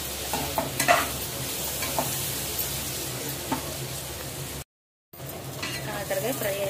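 Bitter gourd with added lentils stir-fried in a pan, a continuous close sizzle with repeated spatula scrapes and light metal clinks, briefly dropping to silence before the frying resumes.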